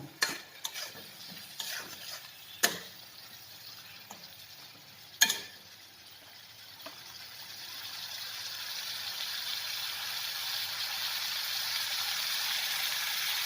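Spices sizzle steadily in hot oil for a pigeon curry, starting with a few sharp clinks and stirring knocks, then swelling into a continuous close frying hiss that holds to the end.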